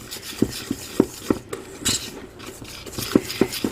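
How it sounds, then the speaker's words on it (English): A whisk beats fruitcake batter in a bowl with quick, rhythmic taps and scrapes against the sides. The strokes are close and moderately loud, falling in an uneven pattern with no talking. "I'm just going to whisk this here"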